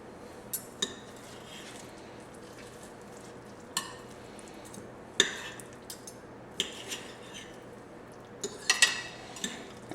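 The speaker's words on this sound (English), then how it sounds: "And now we are going to shred up our beef roast." Cooked beef pot roast being pulled apart with utensils, faint scattered clinks and scrapes of metal against a pot or dish over a quiet background.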